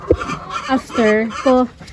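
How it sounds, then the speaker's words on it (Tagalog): Chickens cluck close by in a few short, rising calls, one after another, with a low murmur of other clucking underneath. "Yung mga manok na after mangitlog, minsan yung mga ibang manok natutulog"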